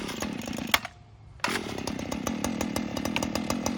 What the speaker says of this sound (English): Let's see how many cranks the FS94R takes. Cold start.